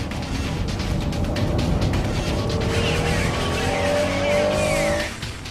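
A Honda NSX-R and a GTO race car take a slippery hairpin on track, engines roaring loudly as tires squeal and skid through the corner, the engine note rising and falling before the squeal fades near the end.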